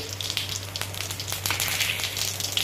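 Cumin seeds dropped into hot oil in a pan for a fasting sabudana usal, crackling and sizzling steadily with sharp pops throughout, close and fairly loud, no voices.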